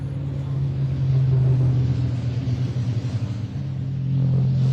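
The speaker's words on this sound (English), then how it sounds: "What a terrific race for the trucks" Racing trucks roar around the Pembrey circuit in a steady, heavy engine drone with a deep low rumble that swells and eases slightly as they pass. No talk is heard.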